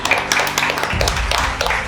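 A small group applauds the winner of a board game round, a dense patter of close hand claps with a low rumble joining partway through, no speech.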